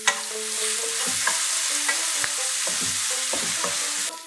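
Masala with turmeric stirred and frying for an egg kosha, a steady close sizzle broken by repeated scraping strokes of a spoon against the pan, with no voices.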